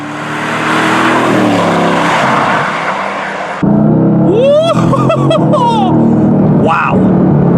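A Mercedes-AMG GT S accelerates hard, its engine roaring loudly and continuously from inside the car, with shifts and rising revs, while someone talks over it.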